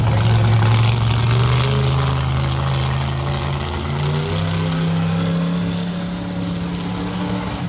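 A monster truck engine revs loudly and continuously on a dirt track at a Monster Truck Tour event in Skagit, its deep drone rising and falling in pitch for several seconds with steady crowd and arena noise underneath.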